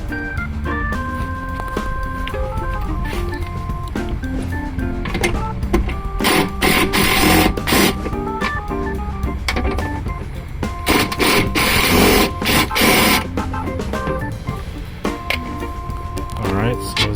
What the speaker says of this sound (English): now it's time to remove these bolts